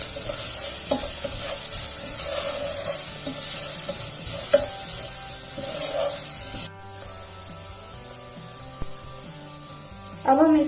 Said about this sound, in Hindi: मिर्ची पाउडर, और पुदीना पाउडर। इसे हम मिक्स कर लेंगे अच्छे से।